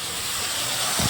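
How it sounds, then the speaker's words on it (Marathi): Water with two or three cardamom pods at a rolling boil for paneer biryani gives a brief, steady hiss of bubbling and steam, close and alone. "या पाण्याला छान उकळी आलेली आहे बघा."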